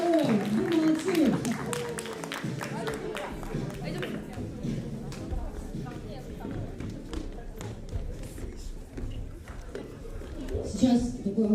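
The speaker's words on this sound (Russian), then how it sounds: "Аплодисменты ему." Audience applause at a theatre festival's opening and closing ceremony for a theatre troupe, heard as steady clapping throughout, partly under a speaking voice and the rumble of the hall.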